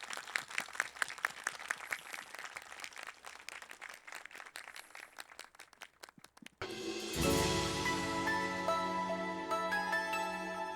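Congregation applause during a church service in a Korean university chapel, a dense crackle of many hands that swells and runs steadily, then gives way to a louder, fuller sustained wash of sound with musical tones underneath.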